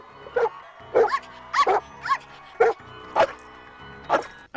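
A cartoonish dog barks in a Scooby-Doo movie: around eight sharp, clear barks and yips in an uneven rhythm, close and loud over a quiet background.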